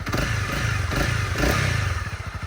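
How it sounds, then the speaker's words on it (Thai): A 2019 Honda CB300R single-cylinder motorcycle idles close to the microphone, a loud, steady throbbing engine note with a slight rise in revs partway through and faint mechanical clatter. "ฟังเสียงเครื่องยนต์ใกล้ๆอีกทีนึง"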